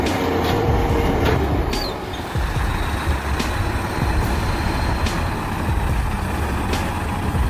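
A heavy truck hauls a CAT 352 excavator at over 6,800 feet, its loud, steady diesel rumble and rolling road roar continuous throughout, with a brief air-brake-like hiss near the start.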